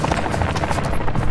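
A helicopter in the Call of Duty video game makes a steady, buzzing rotor drone that stays loud and fairly even for a brief moment, with a faint pulsing throb.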